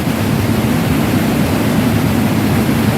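Manavgat Waterfall in Antalya, a broad spring-fed cascade, produces a steady, loud, unbroken rushing roar of falling water with no voices.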